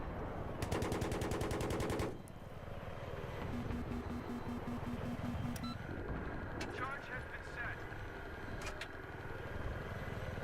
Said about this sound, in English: just so many people just out in the open, getting their butts shot by Viper